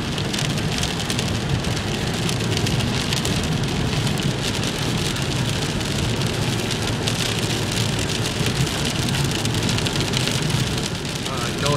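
A thunderstorm in El Monte, California brings heavy rain drumming steadily on surfaces nearby, a continuous loud wash with faint rumbling underneath.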